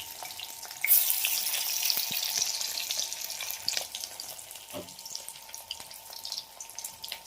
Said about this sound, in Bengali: চলো পকোড়াটা ভেজে নি